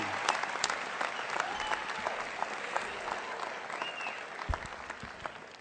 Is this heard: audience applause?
yes